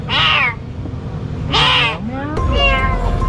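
A cat meows loudly twice at close range, long drawn-out cries with a pause between, followed by a further strained call, with low background noise.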